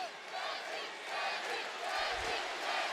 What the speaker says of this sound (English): The crowd chant Deji.